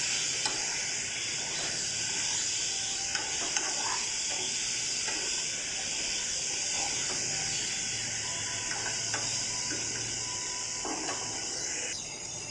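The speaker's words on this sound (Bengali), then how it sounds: "এইটাকে দিয়ে একটু নাড়াচাড়া করে নিতে হবে" Hog plum chutney with turmeric and salt stirred in a hot pan: a steady sizzle and hiss runs throughout, with faint scraping strokes of the spoon scattered across it, close and continuous.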